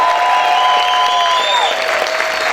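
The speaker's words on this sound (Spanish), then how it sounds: "¿Cuántos pueden gritar y aplaudir fuerte al Señor?" A church congregation applauding and shouting, a steady loud wash of clapping with sustained raised voices and tones over it, continuous throughout.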